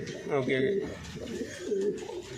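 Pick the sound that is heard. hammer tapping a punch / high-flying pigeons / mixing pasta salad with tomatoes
high-flying pigeons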